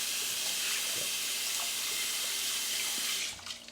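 Tap water runs steadily into a pot as rice is rinsed for a Zojirushi NP-HCC10 rice cooker, a continuous close splashing rush that tapers off at the end.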